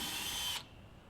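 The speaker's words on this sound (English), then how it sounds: "drill the holes for the light mount" A power drill whirs steadily at close range, drilling holes for a solar motion-sensor security light mount, then cuts off abruptly, leaving a quiet room.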